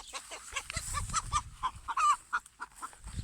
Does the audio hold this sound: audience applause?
no